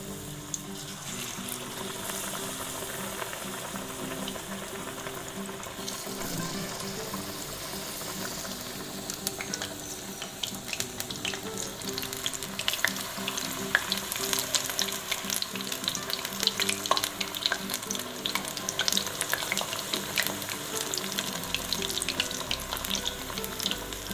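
Chicken lollipop pieces frying in hot oil give a steady, dense sizzle with crackling pops that grows slightly busier over time, close and continuous with no talk.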